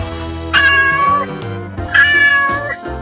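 A cat gives two drawn-out meows, loud and close, one after the other with a short gap and no speech.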